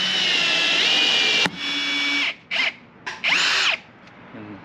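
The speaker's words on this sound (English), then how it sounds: "Here's a look at how this nifty rivet tool works." A powered rivet tool setting rivets on a camper trailer roof rail, whirring in several bursts of varying length with pitch shifts, close and fairly loud.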